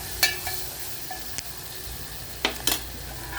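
Crushed garlic added to a hot pan for a thotakura (amaranth leaf) fry sizzles steadily, with a few sharp clinks of a spoon against the pan punctuating the frying.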